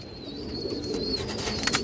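Lively pigeon, a high-quality domestic bird with dark plum-colored legs, giving soft low coos close by over a steady background murmur, with no talking over it.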